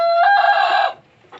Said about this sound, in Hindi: जो सामने मुर्गा खड़ा है, ये वाला,